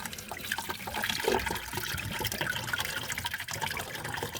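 Steady gushing trickle of water draining from an open supply pipe into a pot under a kitchen sink while a mixer tap is being changed, continuous and close with no pauses.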